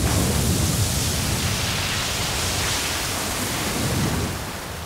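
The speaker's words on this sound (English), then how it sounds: "Geysers." Water from a geyser recorded as a sound-design effect, a loud, dense, continuous hissing rush that eases off slightly toward the end.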